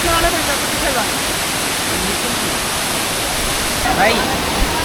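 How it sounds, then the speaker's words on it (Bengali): The second step of the Saingpra waterfall pours as a loud, constant roar of cascading water close by, with voices talking faintly beneath the rush. "এই ঝর্ণাটা হচ্ছে দ্বিতীয় স্টেপ"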